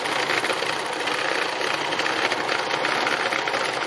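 Sewing machine running steadily during free machine embroidery, a continuous close, fast rattling stitch sound without pauses.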